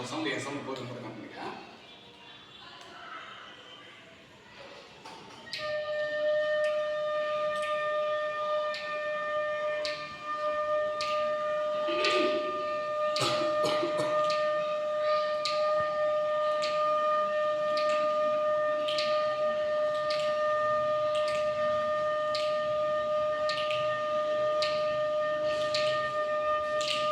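A long sustained flute note is held steady for about twenty seconds, clear and loud, with faint regular ticking beneath it as if beats are being counted.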